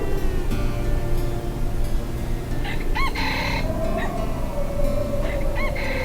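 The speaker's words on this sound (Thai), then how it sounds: "หมู่บ้านก็เริ่มมีเสียงไก่ขัน ประสานกันไปทั่ว" Several roosters crow one after another in a village before dawn, a couple of loud, near calls and others farther off, over a steady rural background.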